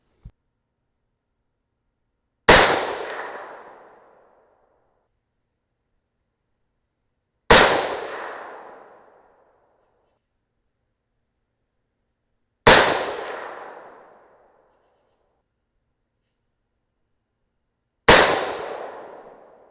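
Four sharp, loud 6mm rifle shots fired through a muzzle brake ring out at a steady interval of about five seconds, each followed by a long decaying echo, with silence and no talking between them.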